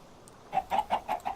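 Chickens in the Minecraft video game give five short, evenly spaced clucks, soft and close, against a quiet background.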